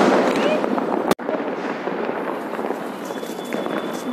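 Diwali sky shot fireworks bursting overhead during a family celebration, with a sharp crack near the start over constant crackling and popping. People are talking excitedly throughout.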